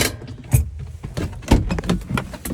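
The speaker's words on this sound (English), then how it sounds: "I'm going to put it into neutral. See, from drive to neutral." A Matrix NEXA enclosed mobility scooter is shifted from drive into neutral, giving a few close mechanical clunks and ratchety clicks from the gear mechanism in a quiet setting.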